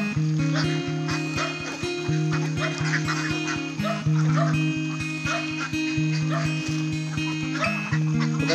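A large flock of ducks quacks nonstop while being fed snails, a loud, dense, overlapping chorus of honking calls close by outdoors.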